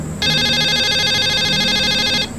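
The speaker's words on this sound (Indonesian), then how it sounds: "Telepon." A telephone rings with a steady electronic ringtone for about two seconds, loud and close, in a comedy sketch setting with a low murmur of room noise beneath it and no talking over the ring.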